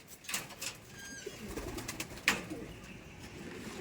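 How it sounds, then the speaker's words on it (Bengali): Old Madras-breed pigeons coo softly in a loft, low murmuring calls heard close but faint, with occasional rustling and a brief sharper sound. "মাদি পায়রা"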